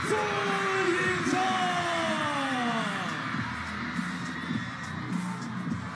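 A table tennis arena crowd at a WTT China Smash mixed doubles match cheers and yells loudly as the players enter, steady roar with whoops throughout.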